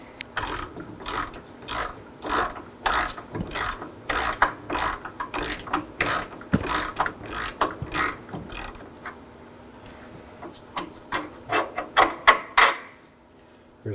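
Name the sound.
ratchet with 22mm socket loosening Nissan Sentra control arm bolt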